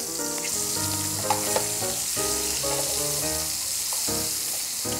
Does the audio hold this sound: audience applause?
no